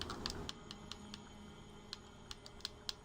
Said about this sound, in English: I'm typing in my name.